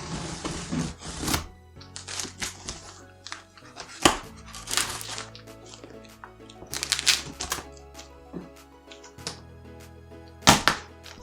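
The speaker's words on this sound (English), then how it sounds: "I don't have a knife on hand, but hopefully these scissors will do." Scissors cut open the cardboard packaging of an Edifier Luna E235 speaker box, giving close snips, crinkles, thunks and rustling handling noises in uneven bursts, with occasional faint speech in the background.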